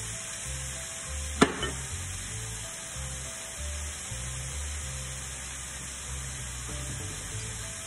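Seasonings frying in olive oil in a pan give a steady, close sizzle, with one sharp clink early on and a low background hum throughout.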